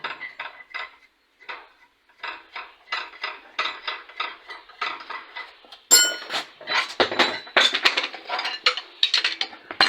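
Metal tool clicks against a nut being unscrewed on a walk-behind tractor engine during cylinder liner replacement: quick bursts of ratcheting clinks in irregular rhythm, close and fairly loud, growing busier toward the end.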